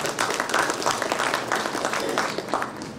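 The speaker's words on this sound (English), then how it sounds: "Can we give a huge round of applause for the great presentation?" Audience applause at a book unveiling ceremony for a presentation, a dense steady clapping from a crowd lasting a few seconds at moderate volume.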